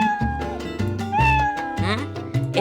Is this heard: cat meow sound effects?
yes